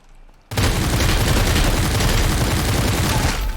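Heavy, sustained gunfire in the Super People shooter game bursts in abruptly after a quiet moment, a loud, dense rattle of rapid shots that continues for several seconds before cutting off.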